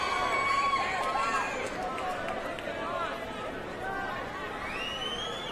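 An arena crowd at an XKO 43 MMA bout roars and screams, a dense, steady wash of many voices with occasional sharper shrieks, heard continuously under a commentator's talk.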